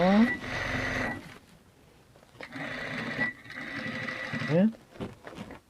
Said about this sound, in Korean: 5cm만 남겨놓고 쭉 박음질 하겠습니다